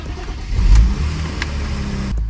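A BMW 330ci engine cranks and catches, then runs with a loud, steady mid-range hum before cutting out abruptly near the end.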